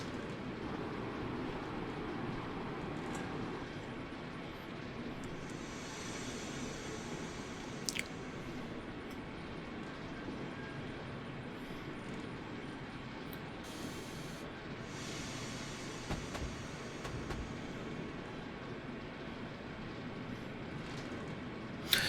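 A BR Blue Class 73 train in Train Simulator pulling into Queens Road, Peckham station on the South London network, a steady low rumble of the moving train with occasional clicks and clunks, no talking.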